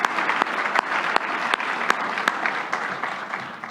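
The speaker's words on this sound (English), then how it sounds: "One last round of applause for all." Steady, dense applause from an awards-gala audience honoring business hall of fame laureates, many hands clapping continuously at close range with a few sharper individual claps standing out.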